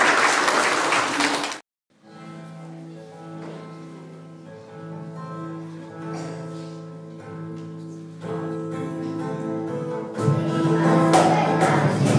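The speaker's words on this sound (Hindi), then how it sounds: "जोरदार तालियों के साथ उनका स्वागत करें।" At a Republic Day school event in Udhampur, a crowd claps loudly in a short opening burst that gives way to sustained music, with clapping swelling again over the music near the end.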